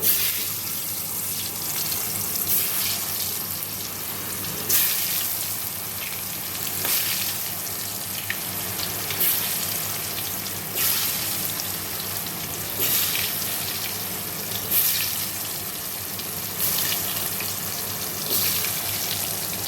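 Tap water pours steadily into a kitchen sink while a cooking pan is washed, a continuous hiss with occasional faint clatters, close and unbroken for about twenty seconds.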